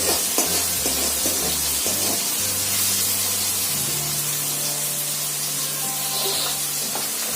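Chopped onions sizzle steadily in hot oil for a dal tadka, with the broad hiss of frying close by, a low hum underneath and occasional scrapes of stirring.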